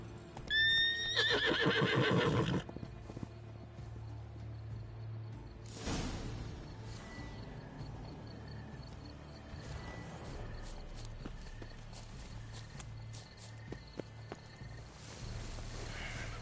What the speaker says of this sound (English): Aw, pretty. Pretty horsey.